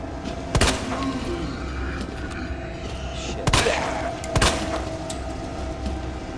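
Three sharp gunshots in Resident Evil 2, spaced apart over a continuous low background rumble, loud and close.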